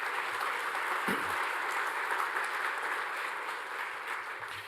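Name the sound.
audience applause for Rachel and her team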